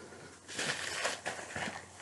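Close, crisp crunching of cheese being chewed, a few quick bites in a row with no talking.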